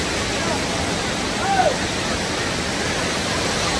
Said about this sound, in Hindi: अभी देख सकते हैं पानी ऊपर से गिर रहा है, बहुत बढ़िया नज़ारा है।